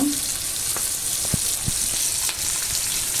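Curry leaves dropped into hot oil alongside frying fish, a constant close sizzle with a few sharp pops and spits as the leaves hit the pan, plus faint scraping of a utensil.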